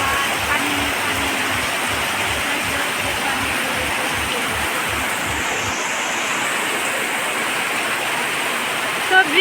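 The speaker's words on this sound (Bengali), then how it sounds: "বৃষ্টি হচ্ছে" Heavy rain pours down with strong rushing water flow, a dense continuous roar close to the microphone, steady throughout with a brief bump at the very end.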